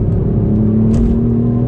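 A Ford Fiesta ST with a 200-horsepower three-cylinder engine and six-speed manual gearbox holds a steady, loud throaty drone and rumble, with a brief rise in revs partway through and no speech.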